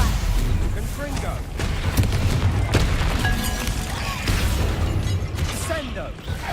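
Blasts from a Confringo fire spell cast at big spiders in Hogwarts Legacy, heard as dense booming, crackling impacts that run almost unbroken under game music and a player's voice.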